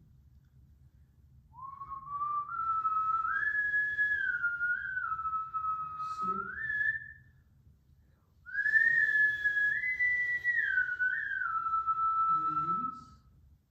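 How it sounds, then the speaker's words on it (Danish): A person whistles a familiar song on the out-breath in two long melodic phrases, a clear, fairly loud tone that wavers and slides, with a pause between them and faint low background noise. "Fløjt en sang, du kender."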